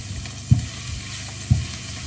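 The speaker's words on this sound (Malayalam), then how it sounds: "ഇഞ്ചിയും വെളുത്തുള്ളിയൊക്കെ മൂത്ത് വന്നിട്ടുണ്ടായിരുന്നു." Ginger and garlic frying in a pan for a pork pepper fry, a steady close sizzle with two dull knocks of a spoon against the pan.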